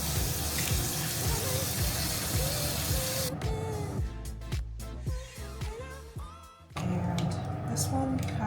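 Tap water running into a sink during washing up, a steady loud splashing rush that is briefly interrupted midway with clinks and handling noises before the flow resumes.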